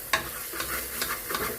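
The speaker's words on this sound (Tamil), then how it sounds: "ஸ்டவ்வை லோ ஃப்ளேம்ல வச்சுட்டு கைவிடாம மிக்ஸ் பண்ணிட்டே இருங்க." Chili powder masala for prawn biryani stirred in a pan on low flame, soft sizzling under a few quick, rhythmic scrapes of the spoon, close and fairly quiet.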